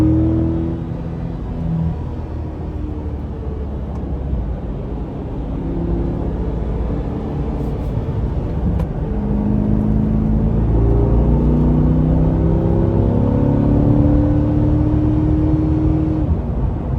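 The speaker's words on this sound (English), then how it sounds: "It's more of kind of what you're used to from a Corvette sound." A Chevrolet Corvette E-Ray on a race track, its engine note droning and rising as it accelerates, with a low steady rumble heard from inside the car and gear-shift steps that climb in pitch.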